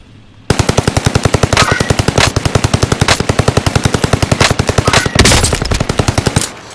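Call of Duty: Modern Warfare gunfire: a sudden, loud burst of rapid automatic fire starts after a half-second of quiet and keeps up an even, rattling rhythm of dozens of shots to the end.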